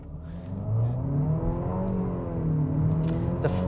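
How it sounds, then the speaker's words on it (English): A 2025 Nissan Murano Platinum SUV pulls away at full throttle, its engine note climbing steadily and droning loud and close from inside the cabin, with a brief shift-like dip near the end. "This time we won't brake torque it, we'll just floor it."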